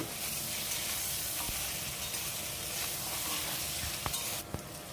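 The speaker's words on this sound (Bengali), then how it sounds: "সামান্য লবণ আর হলুদ দিয়ে আমি আলুগুলো ভেজে নিচ্ছি।" Potatoes with salt and turmeric fry in oil in a wok, giving a steady, even hiss of sizzling oil throughout, with a few faint utensil taps near the end and no talking.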